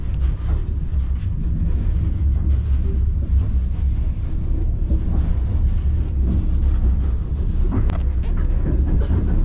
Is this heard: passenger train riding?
yes